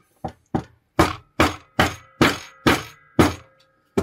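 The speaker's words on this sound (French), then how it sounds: "on va taper jusqu'à ce que ça arrive en bas. Donc on va taper comme des bourrins, attention. Avec un maillet, cette fois-ci c'est mieux." A mallet strikes a pusher in an 11mm grease-cartridge reloading kit, driving it down: nine sharp, loud thunks in a steady hammering rhythm, each with a short decay, close by with no talk.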